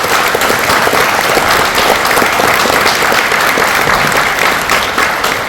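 Loud, sustained applause from a large audience at a company's 40th anniversary event, many hands clapping in a dense steady roar that eases slightly toward the end, with no voices over it.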